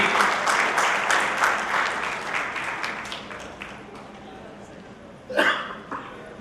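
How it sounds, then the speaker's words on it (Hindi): A seminar audience in Indore gives a guest a hearty round of applause. Loud clapping gradually tapers away, followed by a short, sharp burst of sound. "तो मैं चाहूंगा एक बार जोरदार तालियां माला सर जी के लिए"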